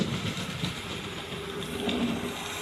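A small 009 narrow-gauge model railway locomotive runs fast along the track, making a continuous close rolling hum with light clicking over rail joints for a couple of seconds.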